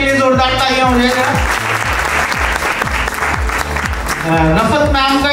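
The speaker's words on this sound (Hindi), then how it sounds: "एक बार रफत मैम के लिए जोरदार तालियां हो जाएगा" Loud applause from an audience at a company partners' meet and award show, sustained across the whole stretch over steady rhythmic background music.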